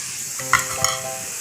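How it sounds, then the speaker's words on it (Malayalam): Drumstick leaf lollipops dropping into hot oil for deep frying set off a soft steady sizzle with a couple of brief splashy bursts, close by and alone. "നമുക്കിനി ലോലിപോപ്പ് ഓരോന്നായി വറുത്തെടുക്കാം."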